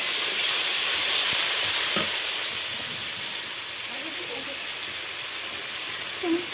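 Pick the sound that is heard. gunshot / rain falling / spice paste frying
spice paste frying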